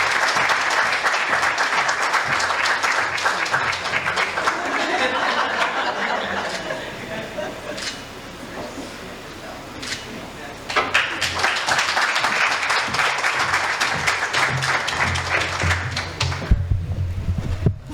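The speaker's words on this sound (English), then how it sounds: "I want all of us to just give him a very big round of applause." Award ceremony crowd applauding at a postgraduate awards event, sustained clapping for about seven seconds, a quieter lull with scattered claps and murmurs, then a fresh loud burst of applause near the end.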